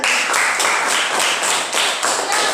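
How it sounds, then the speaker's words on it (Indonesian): A small group claps in a brief burst of rhythmic applause, a run of sharp, evenly spaced hand claps heard up close with no voices over them. "Tepuk tangan untuk dia."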